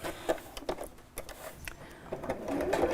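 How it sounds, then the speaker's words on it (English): A sewing machine stitches straight across the bottom of fabric pieces, its needle tapping in a quick irregular mechanical rhythm, fairly close and moderately quiet, with no talking. "I'm going to sew straight across the bottom on both pieces"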